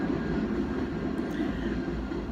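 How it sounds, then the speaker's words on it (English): A train passing outside at night, a steady low rumbling roar with a faint hiss above it, continuous and moderately close for a couple of seconds, no voices. "train passing"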